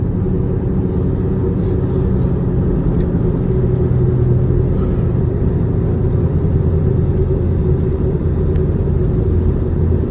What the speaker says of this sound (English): I can hear either a bum tire or a wheel bearing or something in the back.